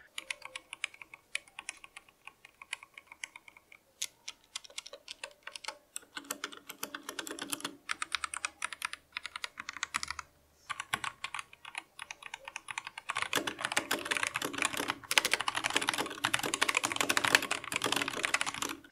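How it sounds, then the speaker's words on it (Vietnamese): Continuous typing on a BenQ Zowie Celeritas 2 optical keyboard, with clicky keystrokes in a rapid, uneven rhythm, close and clear, growing louder and denser toward the end, with no talking. "Cái cảm giác bấm ở trên chiếc bàn phím Celeritas 2 này nó khá là giống một chiếc bàn phím cơ học sử dụng Switch Cherry Red."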